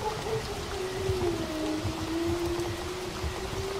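Stormy rain in a Bengali horror cartoon pours as a steady, dense hiss, with a thin whistling wind tone sliding across it and no distinct thunderclap.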